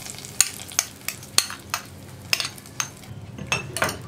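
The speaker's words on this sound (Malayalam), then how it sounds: "അപ്പോൾ ഞാൻ നമ്മുടെ വറവ് കറിയിലേക്ക് ചേർക്കുകയാണ്." Hot tempering with curry leaves is poured into a cowpea and tomato curry, giving a close, steady sizzle broken by repeated sharp metallic clinks and scrapes of a spoon against the pan.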